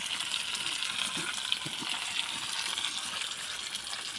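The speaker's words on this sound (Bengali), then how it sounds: "নিম পাতাগুলো না ভালো করে ভেজে দিতে হবে" Neem leaves fry in hot oil in a wok, giving a soft, continuous sizzle with faint crackles and the occasional stir, heard close and alone.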